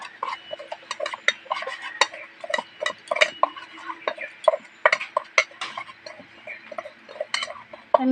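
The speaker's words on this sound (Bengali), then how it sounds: "এবার এটাকে ভালো করে মিশিয়ে নেবো" Chicken leg pieces being mixed by hand or spoon with lemon juice in a bowl, giving a steady run of wet squelches and light clinks from the dish, close and fairly loud, with no talk.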